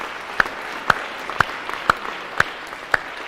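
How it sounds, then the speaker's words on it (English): Workshop participants give a few sparse, separate claps, about six evenly spaced sharp hand claps at moderate level over a quiet room, with no talking. "clap for yourselves"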